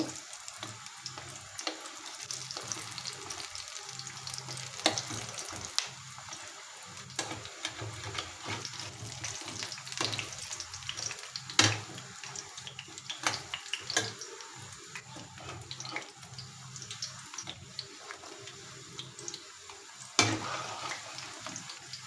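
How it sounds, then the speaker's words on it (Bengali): Drumstick-leaf pakoras fry on a low flame with a soft, steady sizzle, punctuated by scattered clinks and scrapes of a utensil against the pan. "এখন আস্তে আস্তে লো আঁচে ভেজে নেব"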